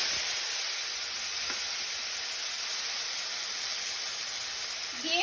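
Spice paste for a green banana curry sizzles in hot oil, a steady loud fry held at the same level throughout with no talk over it.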